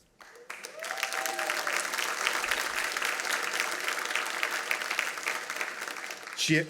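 Sustained applause from an audience at an architecture awards recognition event, rising quickly after a brief voice and holding a steady, dense level before a voice returns at the end.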